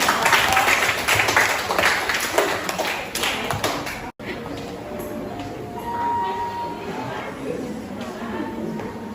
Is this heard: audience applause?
yes